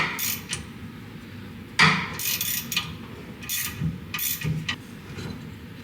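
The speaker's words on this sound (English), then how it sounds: "to run this nut off, we have our Alsa Tools flex head 1/2 inch" A half-inch flex head ratchet runs a nut off the rear lift assembly of a 2022 Ford F350, giving close, bursty clicking ratchet strokes with metallic clunks and pauses between them, no speech.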